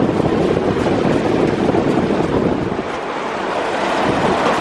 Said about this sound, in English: here's the fan sucking all the debris out. That's a pretty good breeze shooting out of there